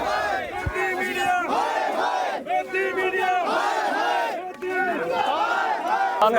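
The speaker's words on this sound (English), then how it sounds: "They heckled and booed out several reporters from pro-government media that were forced to watch the proceedings from the sidelines." Farmer protesters in New Delhi heckle and boo reporters, a dense, loud crowd of shouting and jeering voices that swells and surges without pause throughout.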